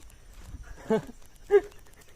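Two short dog barks or yelps at some distance, spaced about half a second apart against a quiet outdoor background.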